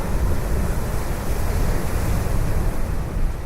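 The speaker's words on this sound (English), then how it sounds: "Boy, was it windy." Strong wind roars across the microphone at Calgary Beach on Mull while surf crashes and washes on the shore, a dense, loud, continuous rush with no voices.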